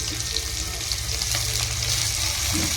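Coconut pieces sautéing with mint and coriander for kara chutney make a loud, close, continuous sizzle that stays even throughout the short stretch.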